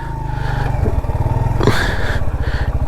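A BMW GS motorcycle engine thrums close by with a steady pulsing beat on an off-road trail in Azad Kashmir, with brief throttle rises and no talking.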